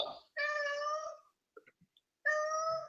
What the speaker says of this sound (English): Yeah, it's your cat.